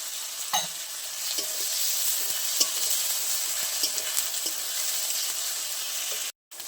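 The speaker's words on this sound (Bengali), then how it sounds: "বাটা পেঁয়াজ, এটাও ভালো করে একটু ভেজে নেব। দিয়ে দেবো লঙ্কা বাটা" Onion paste and chili paste frying in hot oil for a fish curry give a close, continuous sizzle, with scattered scrapes from stirring, and the sound cuts out abruptly near the end.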